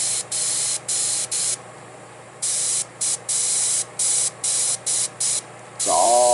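An airbrush sprays paint in a series of short hissing bursts separated by brief pauses, close and fairly quiet, ending with a faint tonal sound.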